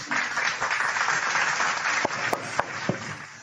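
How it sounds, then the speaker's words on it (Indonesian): An audience claps together in a dense, steady burst of applause at a talk on the genealogy of Jesus. It holds fairly loud throughout, with a few sharper individual claps near the end. "Tepuk tangan untuk kita semua"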